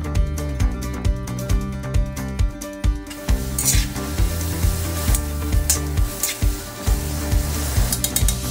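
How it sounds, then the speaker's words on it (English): Carrots sauté in oil in a cast iron pan, sizzling steadily while a utensil stirs and scrapes in quick, regular rhythmic strokes up close. "I'm gonna start sauteing with carrots, because carrots are a hard root vegetable and it takes the longest to cook."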